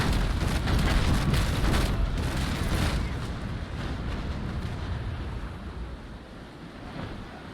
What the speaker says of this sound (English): Few more broadsides in on the Vasa.